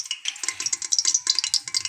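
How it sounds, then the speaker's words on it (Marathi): Mustard seeds splutter and pop in hot oil while being tempered for a dhaba-style whole masoor dal, giving a dense, rapid crackle of bright sizzling bursts heard up close and alone. "आता आपली मोहरी चांगली तडतडली आहे"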